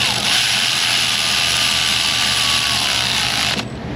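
A loud, steady whine of a power tool tightens a bolt on a car in an auto repair shop, running continuously before cutting off abruptly near the end, with no talk.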